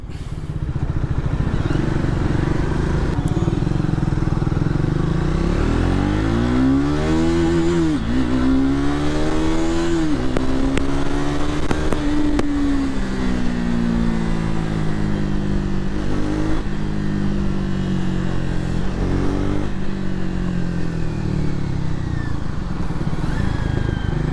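A Triumph Thruxton 400 single-cylinder motorcycle on the move, its engine loud and close throughout, the revs climbing and dropping through the gears with a throbbing, steady roar that never lets up.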